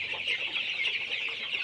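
Chickens of about 400 to 500 grams on a poultry farm in hot weather cluck and chatter continuously at close range, with no one talking over them.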